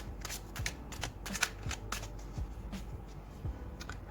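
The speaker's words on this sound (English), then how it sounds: "No, that's just clumsy shuffling." Tarot cards shuffled by hand in a quick, uneven run of crisp riffles and slaps, fairly close and steady throughout with no talk.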